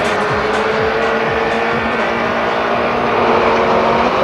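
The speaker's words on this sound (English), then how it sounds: "the lights go green, and I let the engine get bogged down" At the start of a circuit race, a race car engine bogs down as the green lights come on, giving a loud, continuous, strained roar that drones steadily with a rising low tone, with no talking.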